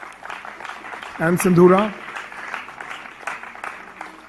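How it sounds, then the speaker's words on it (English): Audience applause at a summit, a steady patter of clapping running underneath a voice briefly speaking over it. "Please give them a round of applause again."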